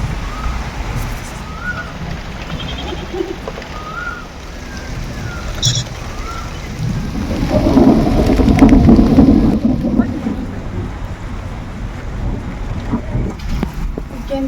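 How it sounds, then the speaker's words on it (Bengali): Rain falls steadily during a village storm, a constant hiss with a swelling low rumble midway that could be distant thunder, and brief animal-like calls and faint sounds over it. "তো বন্ধুরা বৃষ্টি পড়ছে।"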